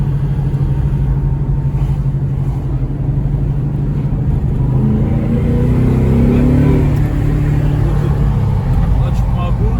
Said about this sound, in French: vraiment le beau bruit du V8, il est beau